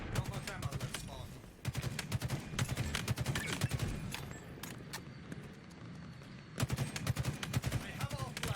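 Rapid bursts of gunfire crackle in the video game Halo Infinite, with dense volleys of sharp shots that pause briefly and then resume. Speech is mixed in under the shots.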